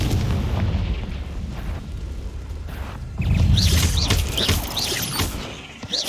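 Repeated Confringo fire spell blasts in the video game Hogwarts Legacy, loud booming bursts over dense battle noise with a rising crackle of impacts midway, no talk.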